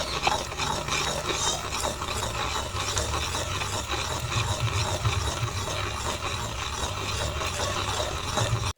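Thick Jaffna thothal sweet churned nonstop in a pan, a dense scraping, rubbing drag of the spoon through the heavy mixture, repeating steadily up close with no talking.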